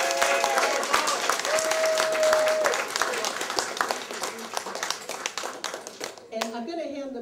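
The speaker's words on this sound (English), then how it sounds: "can we just have a round of applause?" An audience at an exhibit event applauds steadily, a dense wash of clapping that carries on for several seconds before tapering off, with a brief voice near the end.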